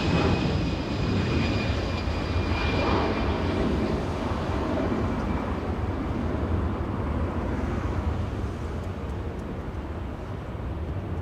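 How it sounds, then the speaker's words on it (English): A KLM airliner takes off at LAX, producing a distant, broad jet roar that holds steady and slowly fades over several seconds, with no voices. "We have KLM, the big special 100, taking off already."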